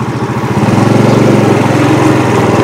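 A motorbike engine runs steadily close by in a narrow alley of a poor neighbourhood in Saigon, a continuous droning putter with no talk over it.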